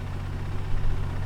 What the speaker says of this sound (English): Every model does get dual exhaust. It does have a deep burbling sound to it.